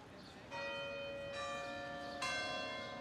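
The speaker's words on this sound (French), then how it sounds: "lorsque le tintement des cloches des églises se déclenche" Church bells ringing out across Braga, Portugal, distant but clear: several struck tones that ring on and overlap, with fresh strikes entering at intervals over soft background hum.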